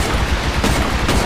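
Rapid bursts of G2A4 rifle fire in the shooter game Titanfall, loud and dense, with several sharp shots close together across the short stretch and no talking.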